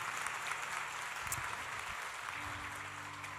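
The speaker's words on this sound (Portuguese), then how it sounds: "Vamos dar uma salva de palmas a Jesus?" Church congregation applauding in praise, a steady wash of many hands clapping throughout, fairly faint and distant-sounding, with a low sustained tone entering near the end.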